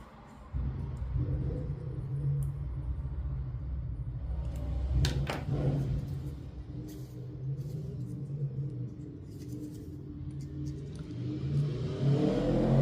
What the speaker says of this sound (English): traffic outside